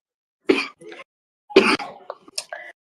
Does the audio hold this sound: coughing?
yes